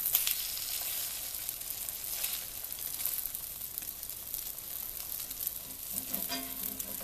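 Banana bread French toast slices frying in a hot pan, a steady close sizzle with crackling spits throughout and no voices.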